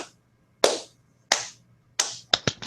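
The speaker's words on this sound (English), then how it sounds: "we do want to give her a round of applause for that one" A few separate bursts of hand clapping on a motorsports panel show, short sharp smacks in irregular groups with quiet gaps between them, close and clear with no talking.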